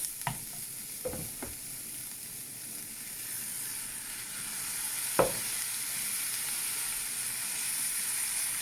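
Potatoes fry with smoked paprika and cumin for a cheese and potato pie, a steady close sizzle broken by a few sharp clacks of a utensil against the pan.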